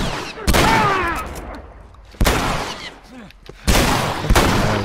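Three loud, sharp rifle shots ring out in The Last of Us, spaced about two seconds apart, each followed by a short decaying tail, with game ambience and faint voices between them.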